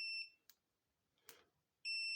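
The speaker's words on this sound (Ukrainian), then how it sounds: "Здається, звуковий сигнал, якщо буде менше 50 Ом опір, то він буде пищати" An FY107C digital multimeter gives its continuity beep: two short, shrill electronic tones, one at the start and one at the end, with faint clicks of the probes in the quiet gap between them.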